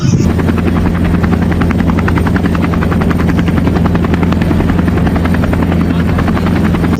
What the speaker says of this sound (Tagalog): Paliparin na natin ang drone.